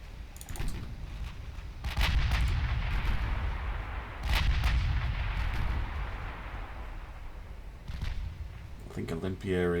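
Naval guns firing in the warship game Ultimate Admiral Dreadnoughts, several deep booming salvos spaced a couple of seconds apart with rumbling decay, alongside clicking and a faint voice.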